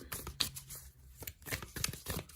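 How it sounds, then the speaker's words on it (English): Tarot cards being shuffled by hand, a run of quick papery riffles and slaps in irregular bursts, close and fairly soft. "we'll give them another quick shuffle on camera"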